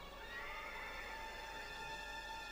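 Horses in stables give a high, drawn-out neigh over a steady low background hum, fairly faint and continuous, with no talk.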